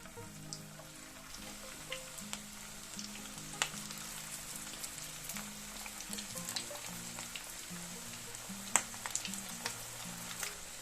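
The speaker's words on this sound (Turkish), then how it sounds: "Aynı tavamın içerisinde köftelerimi kızartıyorum." Steady soft sizzling of İzmir köfte meatballs frying in a pan, with faint crackles and pops throughout and a low background hum.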